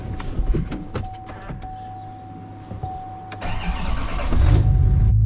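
The power-folding side mirrors on a new pickup truck whir out with a steady electric motor hum, set among a few clicks and knocks, and the engine rumbles louder at the end.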